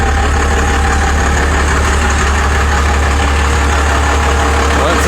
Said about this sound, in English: That engine runs real good.